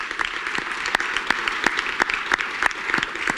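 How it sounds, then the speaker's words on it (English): Audience applause at a Delaware Business Times event: a dense, steady wash of many hands clapping close by, with sharper individual claps standing out, lasting throughout without talk. "Let's give them a round of applause."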